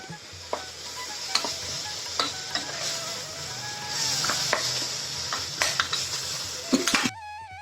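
Curry leaves splutter in hot oil in a pan for a South Indian curry, a steady sizzle broken by sharp pops and crackles, with scraping stirring sounds close by and no talking.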